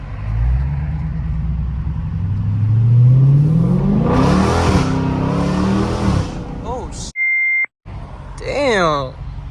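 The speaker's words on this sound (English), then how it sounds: "That's what it's supposed to sound like." A Dodge Scat Pack with its muffler deleted roars as it accelerates, the engine pitch climbing through the gears, followed by electronic beeps and brief voices.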